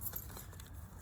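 A set of keys for work jangles softly in a bag pocket, a brief quiet metallic clinking over low background noise.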